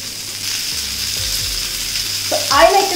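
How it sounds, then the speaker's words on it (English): Beans frying in a pan on the stove, the skins crisping, give a steady close sizzle throughout, with a few clinks and a louder burst of spattering near the end; no one speaks. "So I like to cook these beans until the skin is a little crispy."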